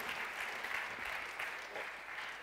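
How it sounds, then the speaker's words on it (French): Applause from the audience at the 2014 E-Commerce Awards prize ceremony, a steady wash of many hands clapping at moderate level, heard alone without speech. "je pense qu'on peut l'applaudir très fort"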